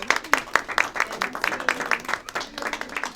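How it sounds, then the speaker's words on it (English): Scattered clapping from a small group, individual claps distinct and uneven, fairly faint and brief with no voices over it. "So big applause to Dr."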